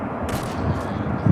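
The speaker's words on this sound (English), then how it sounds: "that's where I shot the enemy" Gunfire cracks out in Days Gone, a couple of sharp reports over low, rumbling game ambience, moderately loud and close.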